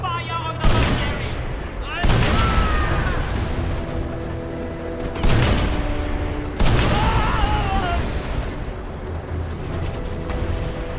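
Heavy video game gunfire aimed at a mercenary: several loud booming volleys with ringing tails, each bursting in then fading, spread across the clip with no voices.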